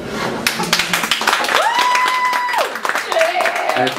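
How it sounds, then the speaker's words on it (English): Clapping from an open mic comedy audience, scattered claps mixed with crowd noise and a voice, interrupted by a sustained tonal whoop-like sound in the middle. "Can everyone clap really hard right now?"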